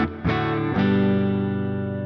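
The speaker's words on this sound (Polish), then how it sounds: "Spróbujmy coś takiego zrobić, czyli tak, brzmienie naszego wzmaka." An electric guitar played straight through an amplifier with no pedal, three ringing chords with a gritty, saturated tone, the last one left to sustain and slowly fade.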